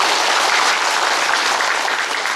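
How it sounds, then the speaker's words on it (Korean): Dense, continuous applause from an audience at a Korean clan association social gathering, steady and close throughout with no talk over it. "박수로 좀 격려 좀 해주세요."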